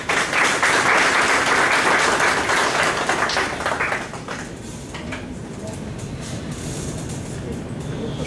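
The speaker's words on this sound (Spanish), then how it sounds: "Recibamos con un fuerte aplauso a nuestro ponente." Audience applause welcoming the lecturer to a digital government and blockchain master talk: dense, loud clapping for about four seconds, then tapering to a thinner, quieter patter with some background murmur.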